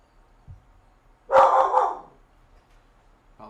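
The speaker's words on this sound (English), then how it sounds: "Apologize for the dog barking" A single dog lets out one loud, close bark burst lasting about half a second, with quiet room noise around it.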